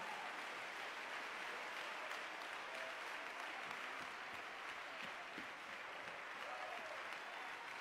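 A church congregation claps during a sermon. The soft, even clapping holds steady throughout, as if heard from a little way off, with no speech.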